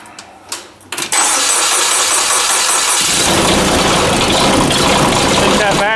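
A Kubota K008 mini excavator engine with a weak battery cranks briefly, then catches and settles into a loud, steady idle close by. Faint talk can be heard before it starts.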